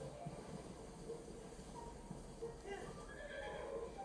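Horse whinnies in The Legend of Zelda: Tears of the Kingdom, a few short neighs rising over steady game music and ambience, with a voice talking intermittently throughout.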